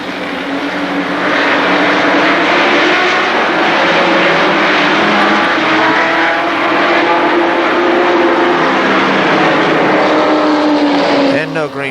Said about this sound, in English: A couple cars trying to jump the start there